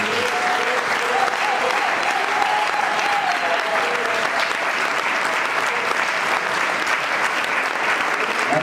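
A church congregation applauding to acclaim God during a sermon: dense, steady clapping from many hands, sustained and even throughout, with voices mixed faintly into the crowd noise.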